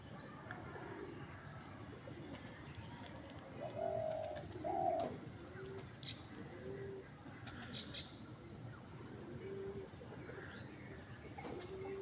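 A decoy hunting dove perched in a tree gives a few short coos around the middle, fairly faint and distant against steady outdoor ambience, with a couple of softer calls later.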